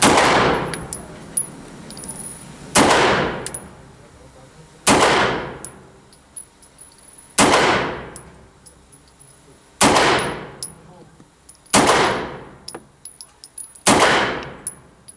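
Sig SP2022 pistol shots fired outdoors, six sharp loud reports spaced a couple of seconds apart, each with a ringing decay and a faint metallic ping from the target.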